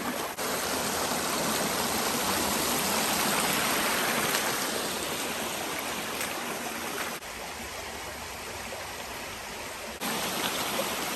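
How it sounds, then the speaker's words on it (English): Creek water flows steadily in the hills, a continuous close rushing and babbling that fills the whole stretch with only slight shifts in level and no voices. "And this creek looks really nice."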